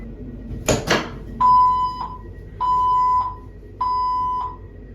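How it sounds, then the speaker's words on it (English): Three identical electronic tones sound at steady intervals aboard a new South Western Railway train, each a sustained beep lasting about half a second, following a couple of brief clunks. "why are there so many beeps?"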